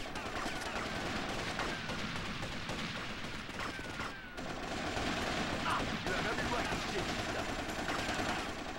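AK rifle fire in Vice City Stories: dense, continuous shooting that is loud and packed together, with a brief dip midway and a voice talking under the noise.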